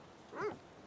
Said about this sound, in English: it's this dog is happy to see me